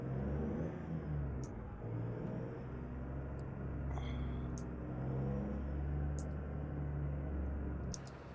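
Kenworth W900 truck engine in the American Truck Simulator game, a steady, loud low drone that holds throughout with slight swells, like a vehicle cruising under power, with brief high clicks over it.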